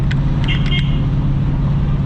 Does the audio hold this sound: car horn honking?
yes